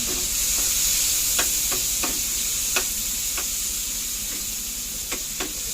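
Onions and tomatoes sautéing in a pan for a sardine dish, a bright constant sizzle with sharp clicks of a utensil tapping and stirring at irregular intervals, no talking.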